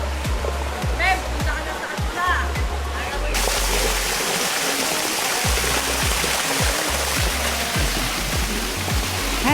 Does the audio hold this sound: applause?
no